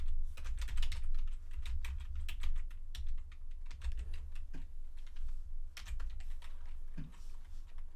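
Rapid bursts of keystrokes clatter on a computer keyboard while coding a web page layout, with short pauses between runs of typing, close and clear.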